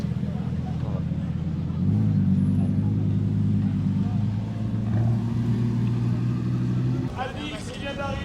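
A luxury car pulls up on the street, its engine rumbling steadily with a rise in revs partway through, close by and continuous before fading near the end.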